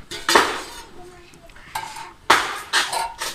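Metal clatter in a kitchen as a lid goes onto a pot of boiling fish curry, several sharp clanks and scrapes in uneven bursts, close up, with a voice talking between them.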